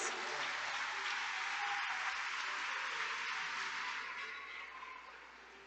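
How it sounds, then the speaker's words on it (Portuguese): A church congregation applauds in a sustained, dense wash of clapping that holds steady, then slowly thins and fades toward the end. "Aplauda Jesus."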